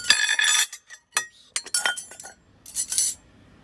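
Porcelain plates, including a Rosenthal Björn Wiinblad Romance platter, clink and clatter as they are stacked and put away, a series of sharp close knocks and rings separated by short pauses.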